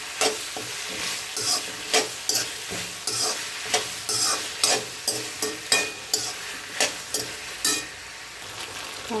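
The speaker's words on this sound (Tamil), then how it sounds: "காயை நல்லா எண்ணெயில் வதக்கி எடுத்துக்கோங்க" Brinjal, drumstick and potato pieces sautéing in oil in a pan, sharp rhythmic stirring scrapes over a constant bright sizzle, close and fairly loud, with no voices.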